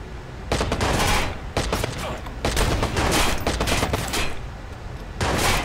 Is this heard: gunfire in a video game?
yes